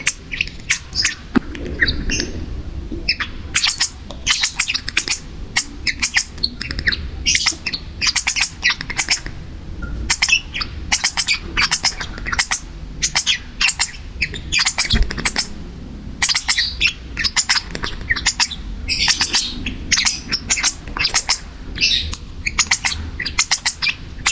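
Two baby lovebirds chirp constantly while being hand fed, a dense stream of rapid high-pitched peeps and squeaky calls close to the ear, continuing with only brief pauses.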